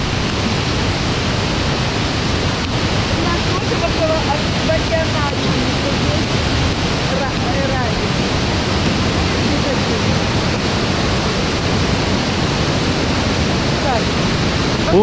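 A waterfall in Hainan, China, during rain, roaring in a loud, steady, unbroken wash of rushing water from start to finish.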